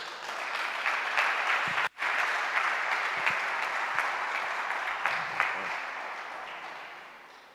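Sustained applause from a large church congregation, a dense steady clapping that fills the space and slowly tapers off toward the end.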